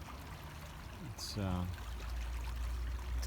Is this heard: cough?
no